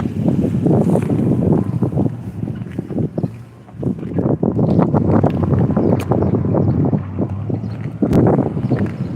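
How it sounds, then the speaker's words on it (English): Strong winter wind buffeting the microphone in heavy, continuous gusts, loud and rumbling throughout, outdoors beside icy roads. "It is very windy out here"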